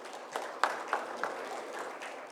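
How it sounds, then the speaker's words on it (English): A conference audience gives a speaker a round of applause: soft, fairly distant clapping with a few sharper claps standing out, faint and brief. "Can we have a big round of applause for Mr. Vyas?"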